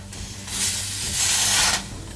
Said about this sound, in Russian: Вроде уже поменьше шипит.